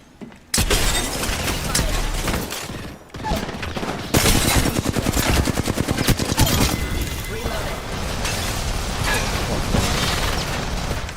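Gunfire rattles through a battle royale game match: a sudden onset of dense, rapid automatic bursts with sharp impacts, continuing loud and near for several seconds after a brief pause, with voices talking over parts of it.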